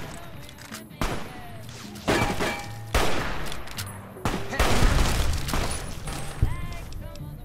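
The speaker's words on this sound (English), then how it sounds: "snipe those people up there with the hunting rifle" Hunting rifle shots in the Fallout: New Vegas video game, several loud, sharp booming cracks about a second apart, each with a short echoing tail, while someone talks over the game sounds.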